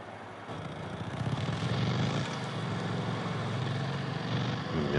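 A video game vehicle mount starts up with a steady, fairly loud engine-like drone that swells after the first second and holds, rumbling low throughout.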